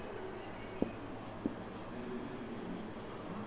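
A pen scratching steadily across a writing board in a classroom, with two brief knocks or taps partway through, heard close over a constant background hiss.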